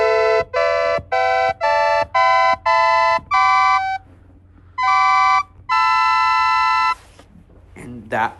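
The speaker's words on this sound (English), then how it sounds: "Traditional harmony sounds something like this." Traditional diatonic harmony demonstrated as a run of sustained chords, each several notes stacked together. Seven short chords come in even succession, a pause follows, then two longer held chords, all clear and unaccompanied, ending on a brief noisy sound.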